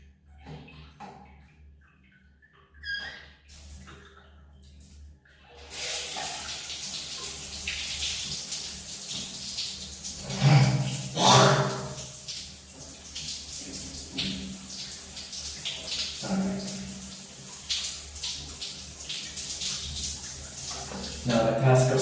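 Cold shower water starts after a few quiet bumps and knocks, then hisses and splashes steadily nearby, broken by louder bursts as the water hits the body, with a person present.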